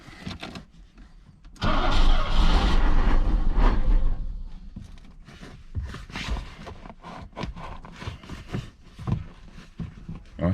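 A Mercedes W126 560SEL, off the road for twelve years, runs roughly: a loud, close engine roar swells for a couple of seconds, then settles into an uneven, stumbling idle broken by knocks and clatters.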